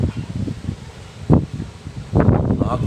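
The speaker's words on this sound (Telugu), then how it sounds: "ఆకులు ఎలా ఎగిరిపోతున్నాయి" Strong storm wind tossing leaves, with gusty rustling bursts that swell and fade close to the microphone, loudest in two surges near the middle and end.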